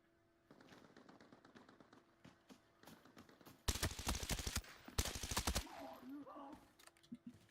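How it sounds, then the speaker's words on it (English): Gunfire in a shooter video game: scattered light clicks give way to two loud, rapid bursts of automatic fire close by, followed by fainter rumbling. "I heard them shooting over here"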